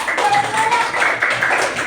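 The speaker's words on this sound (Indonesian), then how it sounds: "Beri tepuk tangan." Children clapping together in a primary-school classroom, a steady burst of quick, dense claps lasting a couple of seconds, close and fairly loud.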